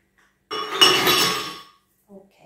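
Ice cubes tumble into a kitchen blender jar for a homemade coffee frappé, a single loud burst of clattering clinks lasting about a second before fading, then silence.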